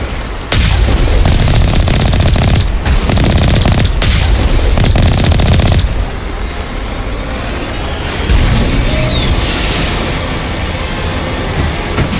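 Vehicle-mounted guns in Mass Effect Legendary Edition fire in loud, dense, rapid bursts for about six seconds until they overheat, then give way to a quieter rumbling, hissing stretch with a few fainter shots. No one speaks.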